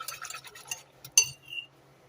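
Whisk stirring flour into crock pot roast gravy, quick light clinks and scraping against the pot, then a sharper metallic clink near the end, close and fairly quiet.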